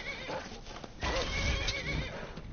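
A horse in the game Skyrim whinnies close by over soft hoof clops, followed by a louder, longer neigh in the second half.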